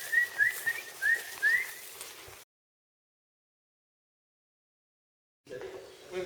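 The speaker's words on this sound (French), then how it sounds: "on siffle" A person whistles outdoors in the Bardenas desert: several short rising whistle calls in quick succession, fairly near, then silence, and a burst of other sound at the end.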